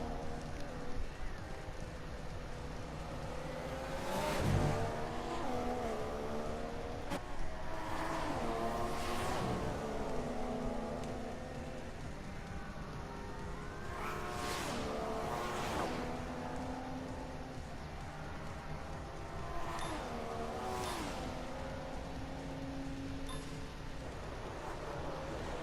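Formula 1 cars in F1 2014 at the Belgian round roar past in several repeated sweeping passes, engine whines climbing and falling as each car approaches and recedes, with a steady background drone between passes.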